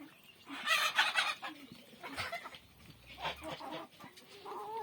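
Turkeys call nearby, a burst of gobbling clucks followed by scattered softer clucks and calls, with farmyard background noise.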